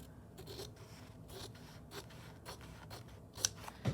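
Scissors snip through paper for a handmade three-page craft book, a series of short, quiet cutting strokes spaced irregularly, with a couple of sharper clicks near the end.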